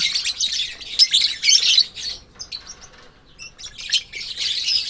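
African lovebird chicks chirp in dense, high, squeaky bursts, close by and fairly loud, with short lulls between flurries and no talk over them.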